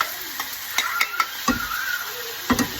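Butter melts in a hot pan with a soft, continuous sizzle, close by, broken by several sharp scrapes and taps of a utensil against the pan.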